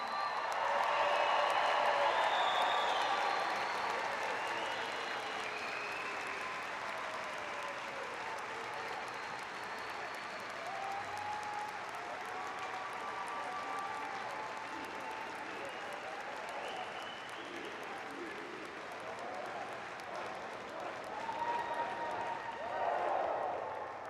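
Sustained applause from a graduation ceremony crowd, with dense clapping at full strength from the start that holds steady for the whole stretch, with scattered whoops and cheers rising through it.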